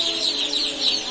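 Brooding joper chickens in a poultry shed, a short burst of high, close clucking and chirping peeps repeating in quick pulses.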